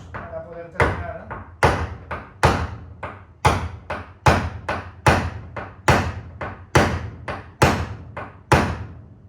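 A pointed hammer strikes an aluminium car body panel during bodywork repair, giving about a dozen sharp, ringing taps at a steady, unhurried rhythm, close and loud with no talk.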